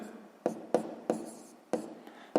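Pen writing math on paper, about five distinct scratchy strokes in an uneven rhythm, close and clear with quiet between them and no voice.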